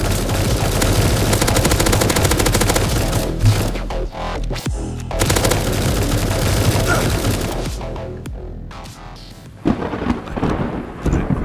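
A turret in the video game DeTechtive 2112 fires loud, dense rapid bursts. Several sudden breaks and restarts punctuate the gunfire, which fades toward the end before a final sharp flurry.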